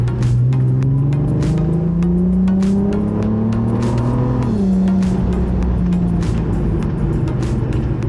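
Audi TT accelerating in second gear, its engine note rising steadily and loudly for several seconds before dropping at a lift or shift, then droning on, heard from inside the car.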